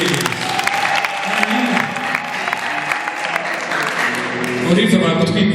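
Wedding reception guests applaud in a sustained burst of clapping that swells toward the end, with voices audible over the crowd.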